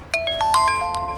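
A mobile phone ringtone chimes out as a bright electronic melody of several quick tonal notes, fairly loud and alone without talking.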